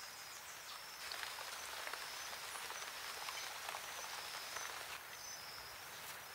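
Steady rain falls on the Brazilian coast, a soft continuous hiss of drops at low level with faint insect chirps in the background.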